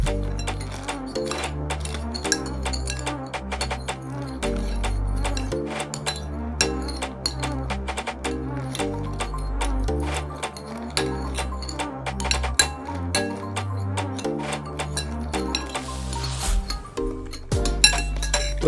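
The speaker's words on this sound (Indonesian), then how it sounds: "Kita atur waktunya, kemudian kita aduk." A spoon stirs inside a glass of salted liquid, giving rapid bright clinks and taps in a steady, busy rhythm that runs continuously, close and fairly loud.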